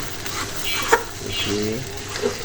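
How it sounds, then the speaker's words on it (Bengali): Beef tripe curry being stirred and sautéed in a pot, a steady soft sizzle with scraping spoon strokes and a sharp clink near the middle, fairly close, with brief speech-like sounds. "আবার একটু ভালো করে এটা কষিয়ে নিচ্ছি।"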